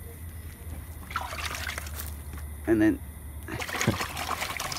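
Water trickles and splashes over a dusky flathead fillet as it is rinsed outdoors, a continuous pour with a louder splash midway, while someone talks over it.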